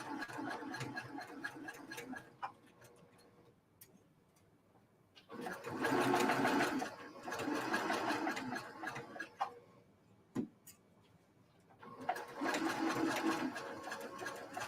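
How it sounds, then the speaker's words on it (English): A sewing machine stitches quilt block seams in bursts of steady rapid whirring, running for a couple of seconds, pausing, then running again, with small clicks between runs and no talk. "I'm going to go over that seam by 1 or 2 stitches."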